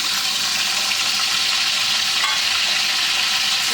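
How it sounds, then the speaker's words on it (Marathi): Boiled potatoes frying in hot oil for dum aloo, giving a steady, loud, continuous sizzle with no pause and no voices. "आपलं तेल तापलेलं आहे तर आपण हे जे आलू बटाटे आहेत जे बॉईल केलेले बटाटे आहेत ते आपण या तेलामध्ये परतून घेऊ"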